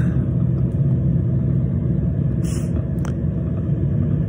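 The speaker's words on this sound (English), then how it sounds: "So just doing my best, getting the driving done." A car drives along a highway with a steady, loud low rumble of engine and road noise, and a couple of faint brief clicks inside the cabin.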